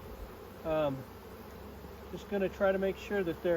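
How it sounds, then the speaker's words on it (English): Winter honey bees buzz steadily inside a hive packed with bee bread and nectar, a close, continuous drone running under a voice as he speaks near the open frames. "So these are the winter bees"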